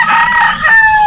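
A rooster crows loudly and close by on a small Filipino chicken farm, one sustained call with other fowl clucking faintly beneath it.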